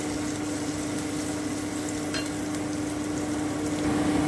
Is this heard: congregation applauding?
no